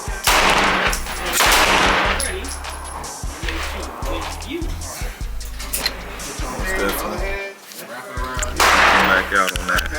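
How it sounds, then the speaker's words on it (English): Rapid gunfire at an outdoor shooting range, loud near bursts and single shots cracking repeatedly through the clip with brief gaps, some from neighbouring shooters, with someone talking over parts of it. "This is my first time shooting right here."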